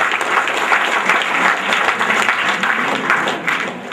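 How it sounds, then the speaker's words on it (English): A classroom of students gives a loud, steady round of applause for a classmate, a dense, continuous wash of clapping lasting several seconds with a faint voice underneath. "Give a big round of hand to him."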